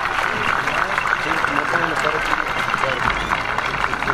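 Dense, sustained applause from graduates at a high school graduation ceremony, a steady roar of many hands clapping at a moderate distance, with crowd voices mixed underneath.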